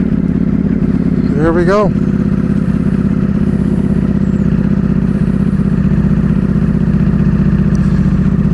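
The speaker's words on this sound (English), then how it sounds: "Let's give this beautiful bike the cold start that it deserves." A Ducati motorcycle fires up from cold with a brief revving surge, then settles into a loud, steady, lumpy idle close by. Someone speaks briefly as it catches.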